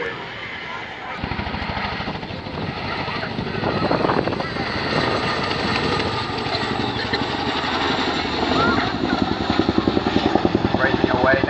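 An RAF Chinook helicopter roars in flight, its rotor thudding in a steady, loud beat close by, with a voice speaking over the engine noise.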